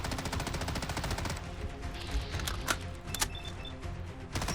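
Sustained rapid automatic fire from a SIG MCX Shrike rifle in the video game Fallout 4, dense continuous bursts with a few sharper single shots and impacts layered on top.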